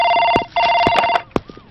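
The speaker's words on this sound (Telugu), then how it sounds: "సార్ మీకు ఫోన్." A telephone rings in loud, close electronic trills, two bursts followed by a short fragment and some knocking.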